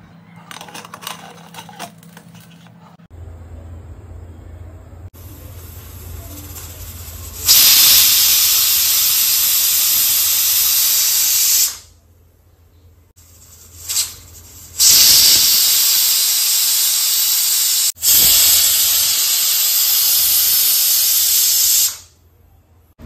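A pressure cooker cooking egg biryani lets off steam in loud, forceful hissing bursts, several long blasts separated by brief pauses, preceded by a quieter hiss.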